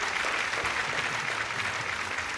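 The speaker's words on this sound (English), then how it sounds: "Give them a bigger round of applause" An audience at a junior insurance-awareness quiz grand finale gives a steady round of applause, a dense even wash of clapping throughout with no voices standing out.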